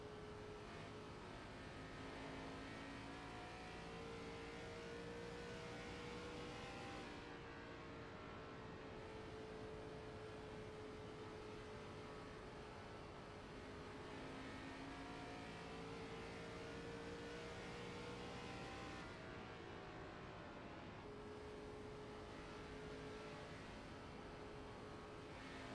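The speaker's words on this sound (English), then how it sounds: "Let's ride along and watch the hands as these cars try to get up to speed on cold tires." Race cars in iRacing pulling away from pit road at Dover on cold tires, a steady dense engine roar rising and surging as several cars accelerate close by, with no talk.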